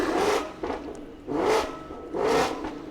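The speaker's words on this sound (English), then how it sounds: "turbo spooling down is my favorite part" A car's turbo spools down in three repeated whooshing, descending whirs, each swelling and fading about a second apart, close and fairly loud with no voices.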